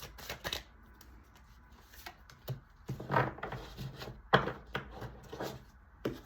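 Cards are shuffled in quick riffling bursts, separated by light taps and shifting sounds, close and fairly quiet, with no talking.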